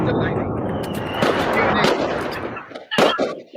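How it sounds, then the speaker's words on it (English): Fireworks bang and crackle outdoors in a run of sharp bursts, with a louder close blast near the end, heard over a live stream with voices in the background. "That's the sound of fireworks."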